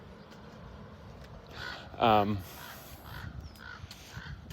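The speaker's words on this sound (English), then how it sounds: "I'm gonna like, look at this crow." A crow gives a single loud, harsh caw burst near the middle, close by and standing out over a faint outdoor background while a person talks.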